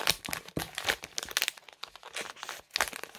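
Steel scissors snip and crunch through crinkly plastic wrapping on gluten-free Schär Milk Cake snack bars in a home kitchen, giving a close run of sharp crackling bursts and crinkles with short pauses between cuts.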